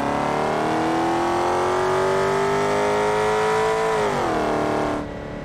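A supercar engine in the BeamNG.drive driving game revs loud and steady, its pitch climbing slowly before dropping sharply near the end as the throttle eases off. The note sounds close and carries on alone, with no talk.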